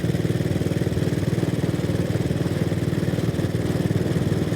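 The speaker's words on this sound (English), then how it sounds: "it provides that classic single-cylinder thumper of a soundtrack" A Vincent Model P motorcycle's single-cylinder engine thumping along an English country road, a steady, rapid, loud pulsing beat held evenly throughout at close range.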